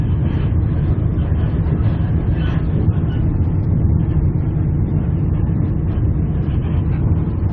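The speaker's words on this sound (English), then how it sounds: "There's the locomotives coming up." A triple-header of locomotives hauls wagons past near Sydney, a steady, loud rumble of engines and rolling stock that holds continuously without a break.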